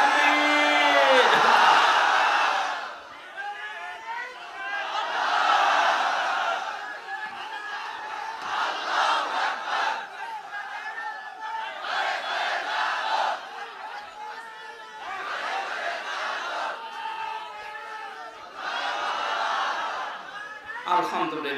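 Large crowd at an Islamic tafsir mahfil in Bhaduria, Dinajpur roaring a takbir response in repeated loud waves, about five or six mass shouts separated by brief lulls, voices massed and reverberant.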